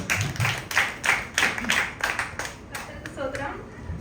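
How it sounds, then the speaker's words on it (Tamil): An audience gives rhythmic applause as a speaker is introduced at a Tamil pattimandram debate, with a voice talking over the clapping. "நல்ல ஒரு பலத்த கரகோஷம் கொடுங்க"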